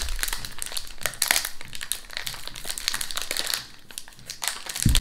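A plastic packet of Fox's biscuits is torn open up close, giving a continuous dense crinkling and rustling with sharp crackles throughout, and no voices.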